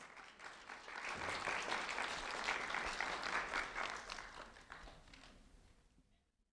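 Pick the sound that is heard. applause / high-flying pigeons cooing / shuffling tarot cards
applause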